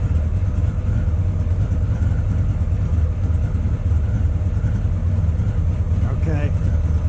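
An engine idles steadily during a carburetor sync with a gauge kit, a low continuous rumble close by, and a person is speaking over it.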